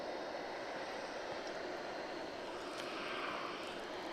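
American Airlines Flight 1395 from Minneapolis–St. Paul arrives at DFW International, a faint, distant, steady jet engine hiss and rumble that holds evenly for about four seconds with no talk.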